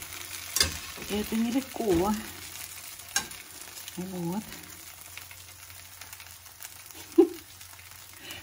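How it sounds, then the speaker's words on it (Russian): Pancakes frying in a pan, with a soft continuous sizzle running under a woman's intermittent speech and occasional clinks. "жарить блины."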